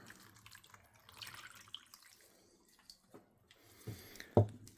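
Plain water running from a tap, a faint steady trickle and splash in a quiet room, ending with a brief louder knock or clunk.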